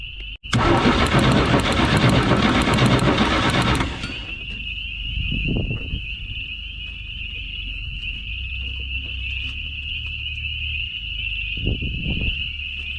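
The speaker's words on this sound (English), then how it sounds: "Wow, that starter is just really working good" An abandoned 1968 GMC truck's starter cranks the engine hard for about three and a half seconds in a loud steady whir, then cuts off, leaving a faint high whine and occasional soft thumps.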